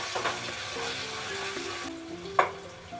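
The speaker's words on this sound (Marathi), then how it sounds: "बटाटा शिजून घेतो." Potato cooking in hot oil in a home kitchen, a steady soft sizzle that carries on continuously, close by, with one sharper clatter near the end.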